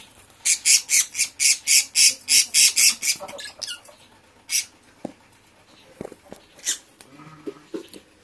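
A sick, weak budgerigar squawks in a rapid burst of about a dozen sharp, harsh calls while being handled, then gives a few scattered fainter chirps and rustles.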